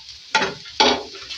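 Chopped onion and a medium capsicum frying in hot oil, heard as three loud bursts of sizzling from tossing or stirring, with quiet gaps between them.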